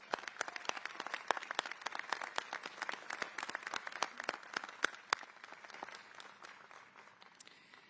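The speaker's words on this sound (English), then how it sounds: "How about another round of applause for the Admiral?" Audience applause at a Villanova University commencement ceremony, a dense patter of many hands clapping steadily, slowly thinning and fading toward the end.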